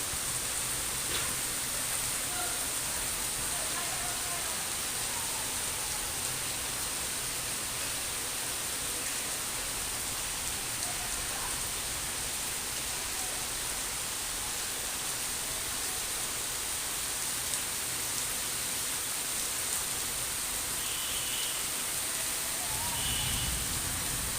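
Rain falling in Dhaka after a spell of heat, with water pooling on a field: a steady, even hiss of rainfall throughout, moderately distant and fairly soft, with no voices.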